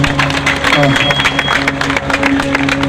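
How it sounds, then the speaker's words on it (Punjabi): Audience clapping at an annual religious gathering at a shrine in Sherpur village near Mukerian, a steady wash of hands over a music drone, with crowd noise filling the whole stretch. "ਇੱਕ ਵਾਰੀ ਤਾੜੀ ਵਜਾਓ ਮਾਂ ਦੇ ਨਾਲ"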